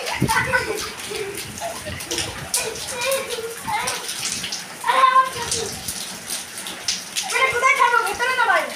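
Floodwater from a cyclone splashes and sloshes around at home, choppy bursts of watery splashing near and loud, with children and adults talking and calling over it.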